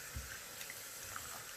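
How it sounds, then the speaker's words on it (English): Hot water running from a kitchen faucet into a pot, a steady soft splashing hiss with a few light drips, fairly quiet and continuous with no talking. "So I'm just adding the hot water from my faucet."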